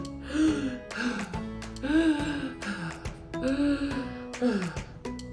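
A voice imitates heavy monster panting: drawn-out, rasping breaths repeated about five times in a steady rhythm, close and loud.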